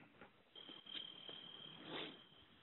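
Crickets chirp in a quiet night setting, a soft, steady, high-pitched trill with a few louder pulses, heard alone without talk.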